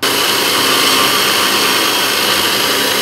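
A 2.5 mm drill bit bores into a small part of a windmill-powered music box, the tool whining loudly and continuously at close range with no pauses or voices.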